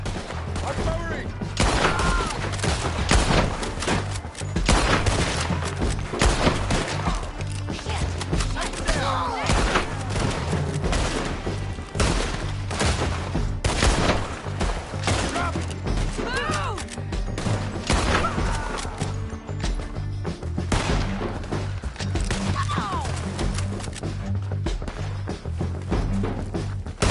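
Heavy artillery and gunfire in Red Dead Redemption 2 pound continuously in dense, overlapping booms and cracks, loud and relentless, with shouting voices mixed into the battle.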